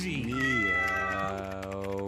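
A man imitates a cat's meow in a very low, bassy voice, one drawn-out call sung close and alone, its pitch bending down and settling.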